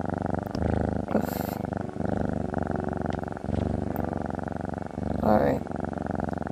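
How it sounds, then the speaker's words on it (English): A cat purrs close up in a continuous, loud rumbling rhythm, with short pauses for breath and a brief voice or rustle partway through. "Go to sleep, kitty cat."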